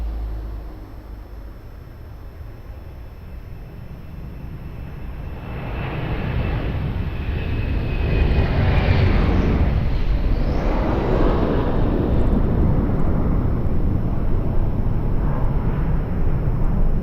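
An Airbus A330 airliner on approach to Lisbon Airport, a broad jet engine roar swelling from faint to loud and holding steady as it passes nearby.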